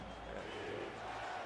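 A stadium crowd roars at a college-style football game at Richardson Memorial Stadium, a broad, steady wash of massed voices filling the space with no clear breaks.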